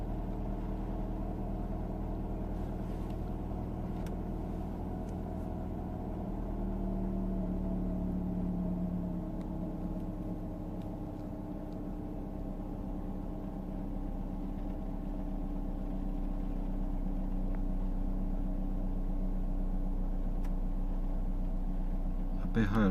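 Idle of a Mercedes W124 E220 with the M111 four-cylinder, a steady, even engine hum running throughout at moderate level with a slight shift in tone partway, a voice murmuring faintly beneath.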